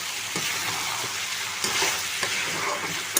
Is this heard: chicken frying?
yes